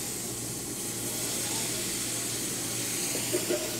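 White Chablis wine and shrimp stock poured into a hot pan of onions in a restaurant kitchen, giving a steady broad hiss and steam with a faint low hum beneath.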